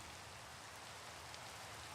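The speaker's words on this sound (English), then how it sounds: "It's raining, so really there's no need to use up rockets." Steady rainfall in the Minecraft video game hisses evenly on surfaces for a couple of seconds, with no talk over it.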